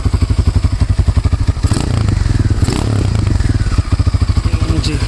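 A modified Piaggio Ravi single-cylinder motorcycle engine idles close by with a fast, even thumping beat, then is revved briefly twice to a smoother, busier roar before settling back.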